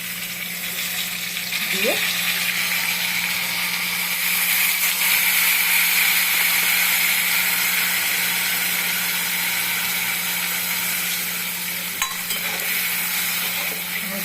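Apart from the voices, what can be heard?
spice paste (radhuni bata) sautéing in pan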